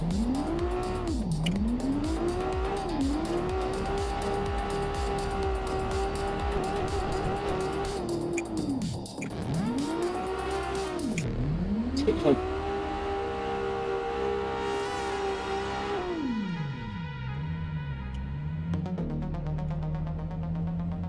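A car engine in the Tokyo Xtreme Racer game revs hard during drift runs, pitch sweeping up and down through repeated shifts, with tire squeal and a deeper drop near the end; loud, continuous, no speech.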